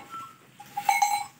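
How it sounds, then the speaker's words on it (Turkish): A sick lamb bleats, giving a short, thin, wavering cry after a faint earlier call, close by in a quiet setting. "Hasta kuzumuz bu arkadaşlar."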